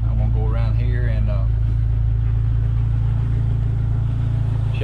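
Jeep Wrangler engine bay with the AC compressor running, a loud steady low hum and idle drone throughout, with a voice talking over it near the start.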